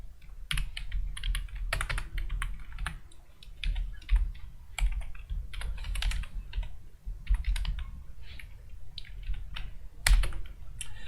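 Someone types code on a computer keyboard in Visual Studio: irregular bursts of crisp, close key clicks with brief pauses between runs, and no talking.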